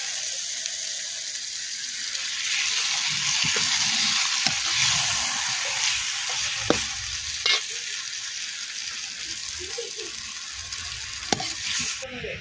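Ginger garlic paste sizzling and frying in a pan for a village-style country chicken curry, a steady crackling hiss with occasional scraping stirs, close and continuous without talk.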